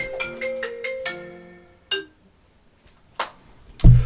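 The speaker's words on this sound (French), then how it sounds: "Excusez-moi pour la sonnerie." A phone ringtone plays during a spoken French guidance session, a melodic sequence of bright electronic notes that rings, pauses, then starts again, fairly close and alone without talk.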